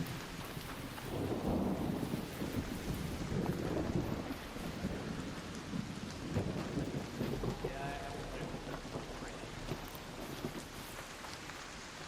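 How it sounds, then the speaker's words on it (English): Rain and rolling thunder during a lightning storm event in the ARC Raiders video game, with a steady downpour and deep rumbles swelling in and out, low and fairly continuous. "I'm in the lightning event, so basically all the lightning you're hearing is deadly."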